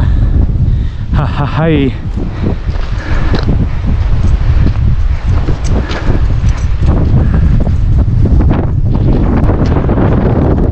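Strong wind buffets the microphone during a ride on a mountain road, a loud, constant low roar, while a voice laughs briefly early on.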